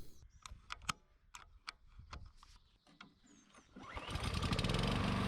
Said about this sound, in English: I'm going to mow down these wild blackberries.